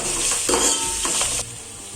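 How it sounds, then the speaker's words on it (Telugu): Turmeric and spices for a homemade veg biryani are stirred in a hot pan, giving a loud close sizzle with scraping of a spoon against metal that drops to a quieter hiss partway through. "ఇప్పుడు కలుపుకోండి బాగా."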